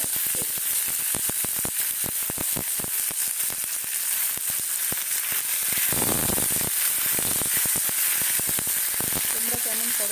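Onions frying with a bay leaf in a pan give off a steady, loud sizzle, crackling and popping throughout, with a brief stirring scrape partway through.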